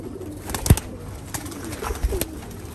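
Pigeons coo softly in short, scattered calls, close by, with light rustling and small knocks between them.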